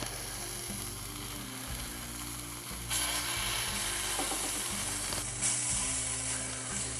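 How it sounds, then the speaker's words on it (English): Steady, loud sizzling of steak searing in a hot cast iron pan, a continuous crackling hiss that grows slightly louder partway through, with no talking. "If it doesn't sizzle really nice and loud, I'm gonna pick it back up."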